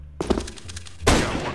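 Gunfire in the video game CS:GO comes as a quick run of close, loud shots, then a heavy burst of blasts with a ringing tail.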